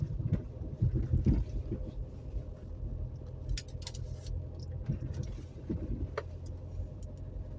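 Car rolls slowly along a road, a low steady engine rumble with faint wind noise, fairly quiet throughout.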